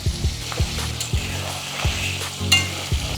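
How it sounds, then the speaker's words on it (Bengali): Paneer cubes lightly frying in oil with a pinch of turmeric, a low sizzle broken by rhythmic scraping clatters of a spatula against the pan roughly every half second. "পনিরগুলো এইভাবে হালকা ভাজা নেবেন, বেশি ভাজতে হইতো না"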